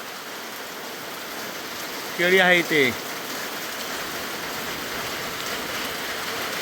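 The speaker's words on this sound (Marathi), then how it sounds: "पण त्याच्या आधी एकदम पाऊस आलेला आहे जबरदस्त." First rain of the season falling in a Kokan village, a steady dense hiss of rain on surfaces throughout, with a short spoken phrase briefly over it.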